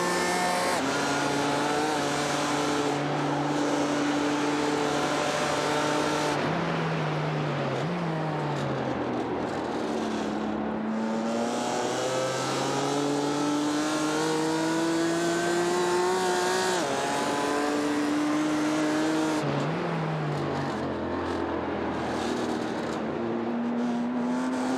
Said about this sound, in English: on the straight, the BMW has the advantage and just repassed the Porsche Cayman